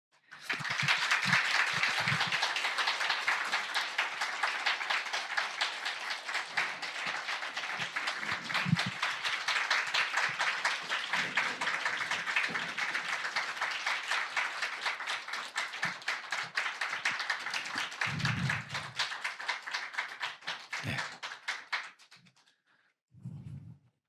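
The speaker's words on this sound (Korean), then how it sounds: "박수 쳐주시면 저희 단원들이 들어오게 될 것 같습니다" Audience applause at a string ensemble guest performance during a Friday prayer service, steady dense clapping as the ensemble members walk in, holding loud for about twenty seconds before tapering off, with a brief spatter at the end.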